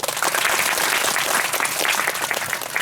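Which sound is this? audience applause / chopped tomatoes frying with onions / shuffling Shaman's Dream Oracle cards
audience applause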